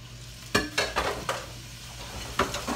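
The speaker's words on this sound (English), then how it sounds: "I got a pound of ground meat here. I'm gonna sear off here in my pot here." A pound of ground meat sears and sizzles in a pot, with a steady frying hiss broken by several sharp scraping stirs of a utensil against the pot. No one speaks.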